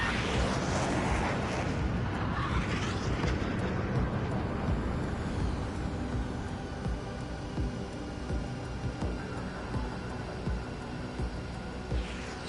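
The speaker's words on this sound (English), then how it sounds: "Mage 1 launching missile." Missile launch and explosion in an air combat game, heard as a loud, sustained roaring rumble with jet engine drone that slowly fades over several seconds.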